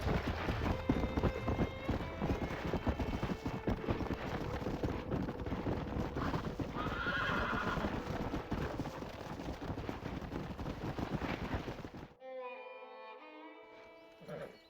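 Horses gallop in the video game Red Dead Redemption: loud, continuous rhythmic hoofbeats over wind for most of the stretch, then an abrupt drop to a quieter passage with faint tonal game sounds.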